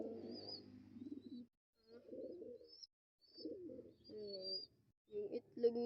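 Pigeons in a loft coo in several short, soft bursts with brief pauses between, a newly paired male and female nearby, with some faint higher chirps above the low cooing.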